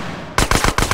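Burst of automatic gunfire from GTA San Andreas, five rapid loud shots in quick succession after a brief quiet lead-in.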